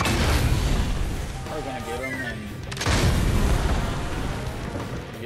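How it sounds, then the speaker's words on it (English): Ship cannons fire in a pirate video game, two heavy booming blasts with rumbling tails, the second hitting after a short gap, while a voice calls out in between. "I've killed someone with the cannon already."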